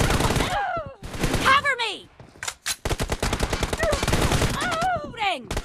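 Sharp, rapid M416 rifle fire in PUBG Mobile, crackling shots in quick bursts with short gaps, loud and close, mixed with game voice callouts and whooshing effects.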